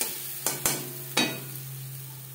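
Ground spice paste stirred into hot oil with whole-spice tempering for a Bhola fish curry, a steady low frying hiss under three sharp utensil scrapes and knocks, close and fairly loud, no voices.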